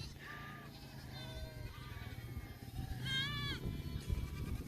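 Several goats and sheep bleat in turn during a move between pastures, wavering cries rising over a steady outdoor rumble, one loud quavering call standing out near the end.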